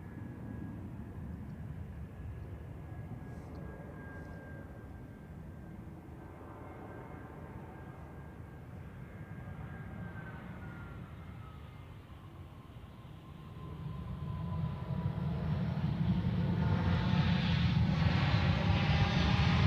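An EasyJet A390 airliner landing at Zurich Airport, a broad jet engine roar that holds steady and then swells loudly as the aircraft passes close by, alone with no talking.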